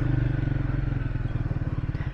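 A Triumph Speed 400 motorcycle pulls hard on a bad road, its engine giving a loud, close, rapid and evenly pulsing thump as it accelerates, with no talk over it.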